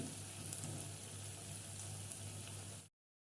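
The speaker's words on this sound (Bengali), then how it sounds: "এইভাবে আমি 4 পিস এখানে ছেড়ে দিলাম, দিয়ে লো টু মিডিয়াম ফ্লেমে রেখে আস্তে আস্তে ভেজে নেব" Batter-coated stuffed spiny gourd (kakrol) pieces, four of them, fry over a low to medium gas flame, giving a steady, even sizzle that runs close and unbroken for nearly three seconds and then cuts off.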